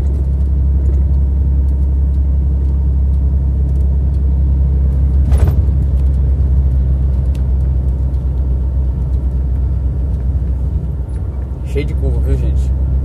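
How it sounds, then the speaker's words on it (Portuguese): Heavy truck on a winding mountain descent of the Serra do Tianguá in Ceará, its engine brake on the third stage roaring with a constant loud low drone throughout, one brief sharp crack partway. "tá no terceiro estágio aqui do freio motor, berrando aqui com força"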